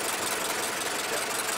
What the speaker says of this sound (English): that's the ticking of the coils.